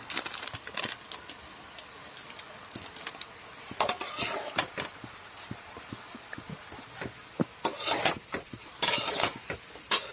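Spiced vegetables are stirred in a cooking pan, with sharp, irregular metallic clinks and scrapes of a utensil against the pan coming in bursts between quieter stretches of low background hiss.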